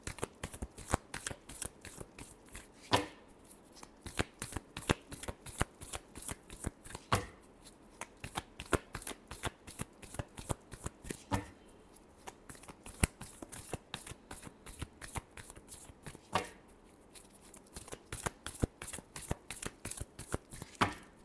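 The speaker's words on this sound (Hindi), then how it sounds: "Last shuffle." Tarot cards being shuffled by hand in a steady run of crisp riffles and flutters for about twenty seconds, with short pauses every few seconds, close and moderately loud with no talking.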